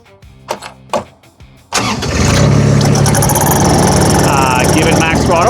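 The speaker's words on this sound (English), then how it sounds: "We'll start the engines." Rippa RS06 and RS04 mini skid steer engines crank and fire up after a few clicks and knocks, then settle into a loud, steady close-range idle with a sharp rising whine.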